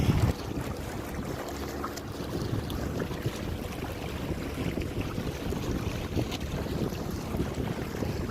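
Wind rushes loudly against the microphone during a mini boat ride, a continuous rough buffeting roar with the watery churn of the small boat mixed in.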